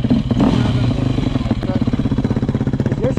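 A Yamaha YZ250 two-stroke dirt bike idles and revs loudly up close on a city street, a rapid, steady pulsing engine note with rough clatter, running continuously with no clear pauses.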